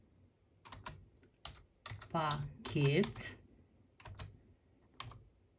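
A search query is typed on a computer keyboard in crisp, close keystrokes, in scattered taps at the start and end, while someone speaks briefly in the middle.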